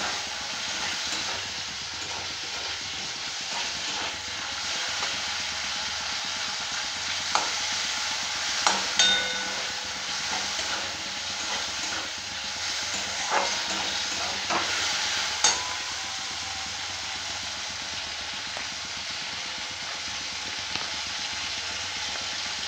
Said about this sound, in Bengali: টমেটোটা একটু ভেজে নিতে হবে।